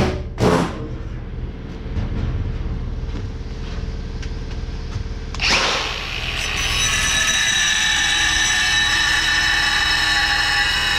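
An angle grinder works on new steel saw dogs for a chainsaw. A sharp impact comes first, then a low motor hum, and the grinder winds up loudly at about five seconds into a sustained high whine close by.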